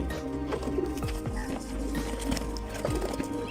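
Soft pigeon coos repeat in a low, murmuring rhythm against a steady background hum.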